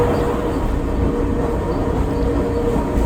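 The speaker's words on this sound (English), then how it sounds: "I'm so happy that I can ride this most wonderful cogwheel train in the world." The Pilatus cogwheel train climbs a steep railway with a continuous rumbling, rattling run of wheels and carriage, loud and steady throughout with no talk.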